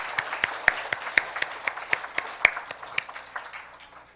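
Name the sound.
congregation applause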